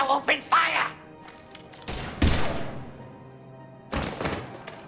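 Gunfire and heavy impacts from the Mass Effect 3 video game, a few loud thudding shots and bursts heard over and after game dialogue and background music.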